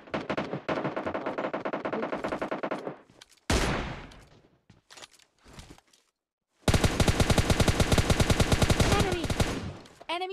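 Rapid automatic gunfire from the PUBG Mobile Lite video game rattles in two long bursts, separated by a few single shots and short gaps of silence, with brief talk in between.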